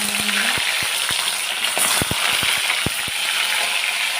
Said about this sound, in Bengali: ভালো করে ধুয়ে মাছগুলো ভেজে নেব কড়াই বসিয়ে দিয়েছি তেল দিয়েছি